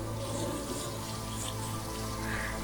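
Running water for washing, a loud steady rush of water from a tap, continuous and close throughout.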